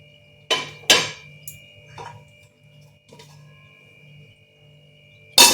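A lid set onto a cooking pot: a couple of sharp metallic clanks close together, followed by lighter taps and rattles, then another clank at the end, against a quiet kitchen hum.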